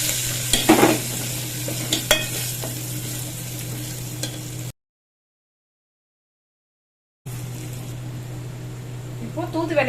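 Garlic, curry leaves and asafoetida sizzle steadily in a hot pan while cooking thudhuvalai milagu rasam, with a few sharp stirring scrapes. The sound cuts out completely for a couple of seconds midway, then the frying resumes.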